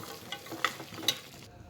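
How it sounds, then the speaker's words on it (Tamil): Peas, beans, carrot and beetroot get stirred in a pot for veg biryani, soft scraping strokes with a couple of sharper clinks, quiet and close, ending abruptly. "இதை நம்ம நல்லா மிக்ஸ் பண்ணி விட்டுக்கலாம்."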